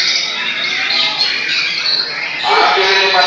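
Magpie robins sing at an outdoor songbird contest at a roadside stall in Katapang, Soreang, with dense, loud, continuous overlapping squawks and chirps from many caged birds and a busy crowd beneath.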